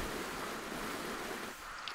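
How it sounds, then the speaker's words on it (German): Water rushing into a tank in the video game Vessel, a steady broadband wash like surf or wind that holds evenly and eases off near the end, with no voices. "Erstmal Wassertank auffüllen."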